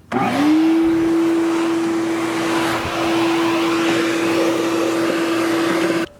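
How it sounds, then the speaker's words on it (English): A vacuum cleaner starts up and runs loudly and steadily close by in a garage during a 1971 Chevrolet C10 pickup rebuild, its motor whine holding one pitch until it shuts off. "I'm going to vacuum everything up"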